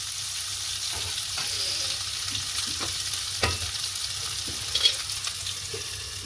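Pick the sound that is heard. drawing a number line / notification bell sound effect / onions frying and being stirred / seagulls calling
onions frying and being stirred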